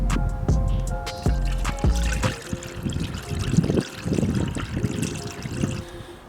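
Coolant trickles and splashes into the expansion tank of a Ford Fiesta ST150, an uneven pour with drips and gurgles close by, and no talking.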